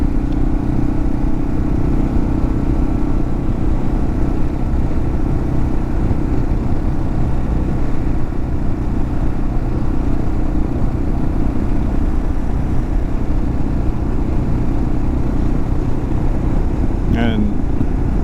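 A Kawasaki KLR motorcycle cruises along a road with a steady low engine drone and wind rumble throughout, constant and close, with only a brief faint click near the end.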